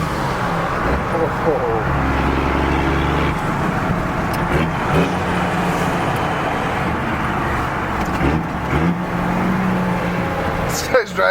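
A car roars past at speed on a residential street, loud engine and road noise filling the clip, with a brief exclamation from a nearby voice.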